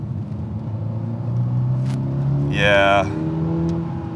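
A Toyota GR86 with an automatic gearbox in manual mode drives a wet mountain road, its engine a steady low drone that swells slightly as it pulls, under brief talk from the driver.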